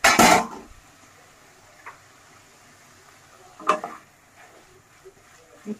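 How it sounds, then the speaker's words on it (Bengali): Vegetable mixture for vegetable chops being stirred in a pan, with a loud metallic clatter at the start, a softer knock midway and a later clank as the lid goes on, close with quiet gaps between. "জল দেওয়ার পর আবার নেড়ে চেড়ে ঢাকনাটা দিয়ে ঢেকে দিতে হবে।"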